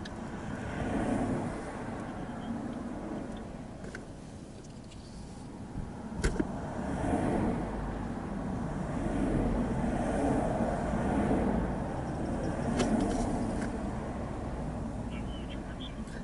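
Traffic passes along the Pacific Coast Highway near Topanga Canyon, a continuous roadside rumble of cars swelling and fading, with a couple of sharp clicks or knocks partway through.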